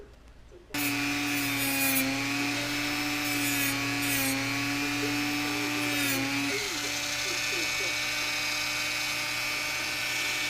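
Flux and impurities are sanded off a small cast metal miner's button. A steady, high-pitched mechanical whine with a gritty rubbing edge runs continuously and loudly at close range after a quiet start.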